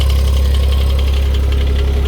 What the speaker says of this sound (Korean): 시동 소리만 들어봐도 아시리라 믿습니다. 그보다 특유의 약간 분석한 소리 나고 있고요